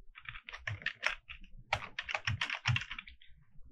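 Fingers type code on a computer keyboard in quick irregular bursts of close, crisp key clicks, with a short pause partway through and no one speaking.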